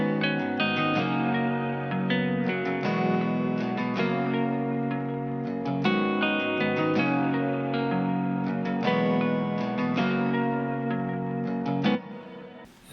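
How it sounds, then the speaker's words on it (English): Layered lofi guitar parts with compression and effects, a steady loop of soft picked chords and melody with chorus and echo, held at a constant moderate level with no voices until a quick fade at the end. "Together guitar sounds like this."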